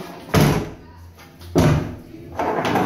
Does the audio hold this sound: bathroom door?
yes